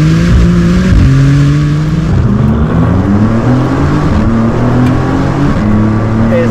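A Maserati MC20 fitted with a Novitec exhaust drones loudly and continuously, engine tones rising and shifting through the gears as the car accelerates, close and sustained with no talk.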